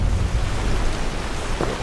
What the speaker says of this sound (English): Wait out this rain.